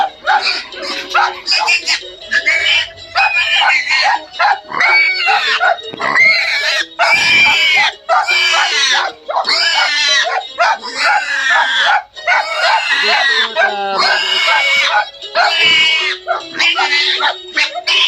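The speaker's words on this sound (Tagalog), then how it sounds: "Pahuli lang po ako ng biik para po maturukan." A piglet on a pig farm squeals loudly and repeatedly in sharp, frantic bursts while being caught for an injection, the cries close and continuous with short gaps; a person speaks briefly in the background.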